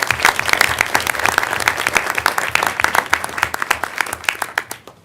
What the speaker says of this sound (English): So first, a round of applause for them, but don't get up yet.